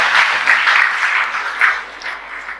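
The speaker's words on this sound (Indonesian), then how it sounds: "Kita tepuk tangan dulu untuk kaum Bapa." A church gathering applauds the fathers' fellowship with a short burst of hand clapping from the crowd, loud at first and then fading, with no talk over it.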